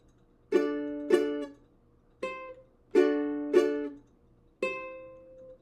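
Ukulele fingerstyle plays the third measure of a song, six bright plucked notes and chords in a gentle uneven rhythm, each ringing out, close and soft with no voices.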